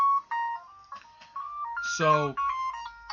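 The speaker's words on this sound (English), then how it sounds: "That's my alarm." An electronic alarm ringtone plays a bright beeping melody of stepped tones, loud and near, with one buzzy burst in the middle, while someone briefly speaks.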